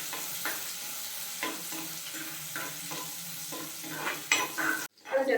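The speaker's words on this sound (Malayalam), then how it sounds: "എണ്ണ ചൂടായി കഴിഞ്ഞാൽ ആദ്യം നമുക്ക് ഇഞ്ചി വെളുത്തുള്ളി ചെറുതായിട്ട് അരിഞ്ഞത് ചേർത്ത് കൊടുക്കാം" Chopped ginger and garlic sautéing in hot oil, a continuous bright sizzle broken by rhythmic scrapes of stirring, growing louder near the end before a sudden cut.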